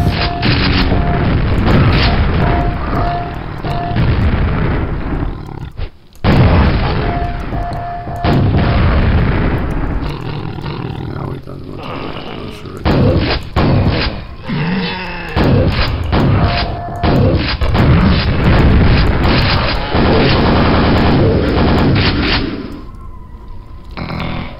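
Booming rocket launcher explosions from the video game Quake, loud, dense and repeated, thumping blasts over game sounds with a brief drop near six seconds and a fade at the end.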